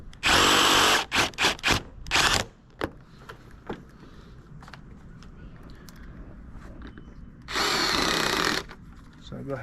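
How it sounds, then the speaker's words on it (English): A power drill drives screws into the hinge post of a vinyl fence gate: a loud whirring burst, several short stuttering pulses, a quieter gap with faint handling, then another sustained whir, all close up. "So I go ahead and add all of my screws real quick on the hinge post."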